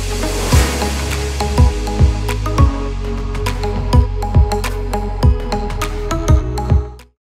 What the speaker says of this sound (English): you can hear the water drops, the water drop